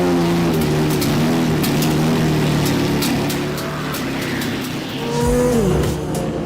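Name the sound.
Porsche 917 race car engine at Hockenheimring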